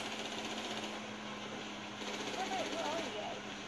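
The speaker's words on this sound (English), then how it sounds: "There's a helicopter." A helicopter flies in the video game GTA 5, a steady mechanical whir and buzz running throughout behind game noise, while a voice talks over it.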